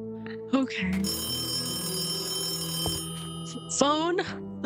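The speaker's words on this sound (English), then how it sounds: "The phone is ringing, is it?" A telephone rings in a Minecraft FNAF roleplay game, a steady electronic bell tone running for a couple of seconds while people speak and exclaim over it.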